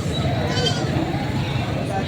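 Goats newly bought for breeding, including bucks, bleat in a farm pen while people talk over a steady murmur of voices.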